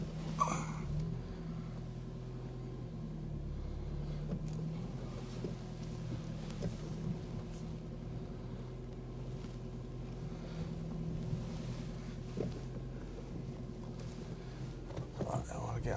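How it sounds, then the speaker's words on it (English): 2002 Nissan Micra on a short test drive after a clutch cable replacement, a steady low engine hum with road and wind rumble throughout, occasional soft knocks and someone speaking. "All right, quick drive. Just to test this clutch."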